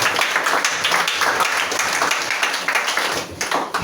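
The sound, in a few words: congregation applauding Jesus in church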